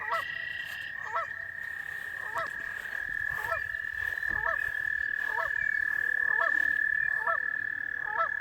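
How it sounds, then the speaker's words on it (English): Frogs croak loudly in a steady, repeating chorus, roughly one croak a second, over a constant high-pitched drone. "And then you get all the frogs. They can drive you kind of crazy. They get really loud."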